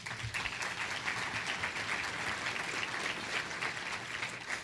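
Audience applause at a chamber of commerce fall breakfast, a steady wash of many hands clapping at moderate distance, continuous and even throughout.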